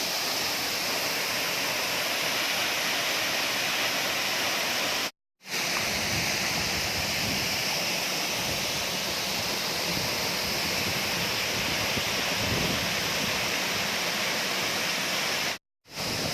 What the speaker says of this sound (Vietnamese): Con suối cũng không to lắm nhưng mà thác nước rất là chảy rất là xiết luôn này.